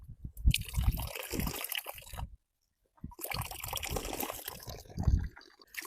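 Tap water runs into cupped hands in a soft, trickling pour. Two bursts are split by a brief silent gap, and the sound stays quiet and close.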